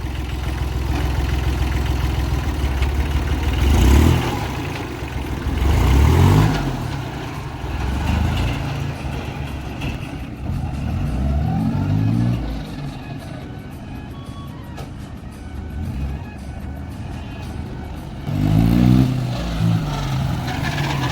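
A farm tractor engine idles steadily nearby, with several brief revving surges rising and falling over a constant rumbling drone, and faint voices in the background.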